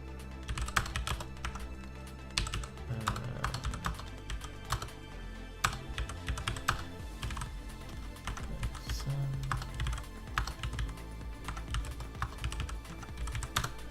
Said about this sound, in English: I'm just going to type it up quickly.